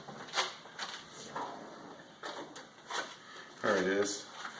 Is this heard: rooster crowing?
no